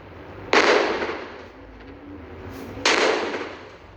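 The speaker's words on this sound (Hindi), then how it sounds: "तेरे ऊपर तो रॉकेट लॉन्चर डालूंगा मैं तो।" In the mobile game Indian Bike Driving 3D, two rocket launcher blasts go off about two seconds apart, each a loud sharp explosion that decays over a second.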